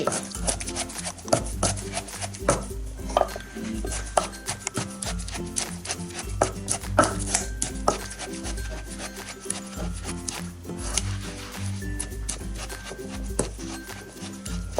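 Rice pounded for a bamboo shoot curry with mushrooms, heard as repeated close thuds and rubbing scrapes in an uneven rhythm, with occasional clatter of kitchen items and faint background noise.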